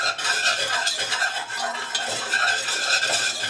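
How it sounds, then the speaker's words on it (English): A vanilla pudding mixture being whisked in a bowl, with steady, continuous scraping and swishing strokes of the whisk running throughout, fairly close and without talk. "we're going to whisk this together"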